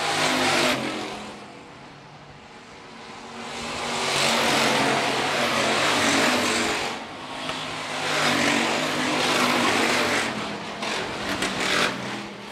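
Hobby stock race cars roar around the dirt oval at Phillips County Raceway, a steady wash of engine noise rising and falling as the pack passes, loud and continuous with no pauses.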